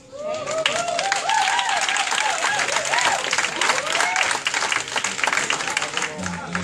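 A church congregation bursts into loud, dense clapping that carries steadily throughout, with cheering voices and calls rising above the applause.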